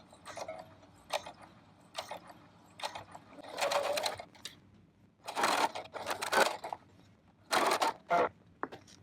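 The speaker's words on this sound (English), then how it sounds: "I'm going to sew straight down and straight back" A domestic sewing machine stitches a felt needle case, running straight down and back in several separate bursts of rapid whirring with quiet gaps between them, close up and with no talking.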